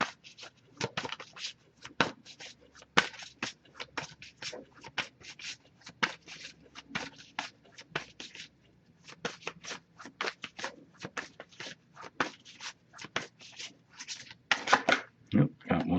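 A tarot card deck is shuffled by hand in quick irregular riffles and rustles, close and fairly quiet, with brief pauses between bursts.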